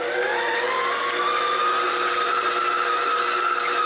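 A stand mixer's whisk attachment whips butter for a strawberry crunch cake, running as a steady, loud, continuous whirring drone with a rising mechanical whine and no pauses or talk.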